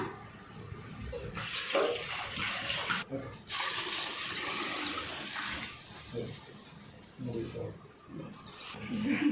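Water gushes and splashes steadily into a rice pot holding 5 kg of rice for several seconds, loud and close, with short pauses and some background voices.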